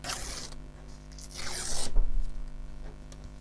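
Paper tears off in two quick rough rips, close and fairly loud, followed by faint handling rustle.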